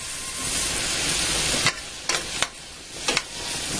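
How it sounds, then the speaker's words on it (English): Onion and garlic sauté in a pan over medium-low heat, giving a steady, close sizzle with a few sharp scraping stir strokes near the end. "I'm going to continue cooking this over medium-low heat so the onions and garlic are tender or translucent"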